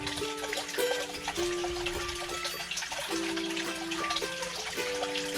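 Water from a hose pours and splashes steadily into a pond in winter, a soft continuous trickling gush with faint tonal chirps in the background.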